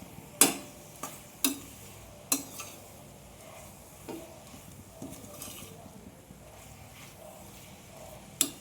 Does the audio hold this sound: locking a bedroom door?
no